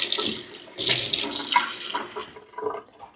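Water pours from a kitchen tap into a sink in two bursts, a steady hiss that cuts off and then briefly trickles again, close and fairly loud.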